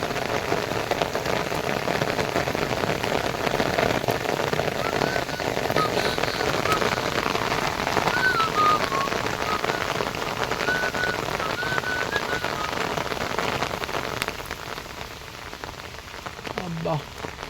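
Heavy rain pours down steadily outdoors, a dense, continuous hiss and patter that stays loud throughout and eases slightly toward the end.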